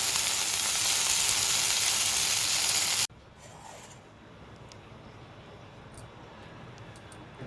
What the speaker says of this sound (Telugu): అదే ఆయిల్లో పుదీనా వేసుకోవాలి. వేసుకొని ఫ్రై చేసుకోవాలి.